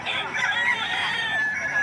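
Roosters crow and hens cluck continuously at a livestock market in Padre Garcia, Batangas, a loud, crowded mix of fowl nearby with faint talk underneath.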